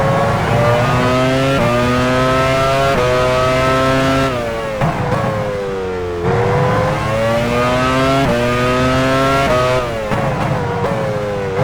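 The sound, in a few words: Mika Häkkinen's F1 car driving into pit lane, F1 Challenge 99-02 video game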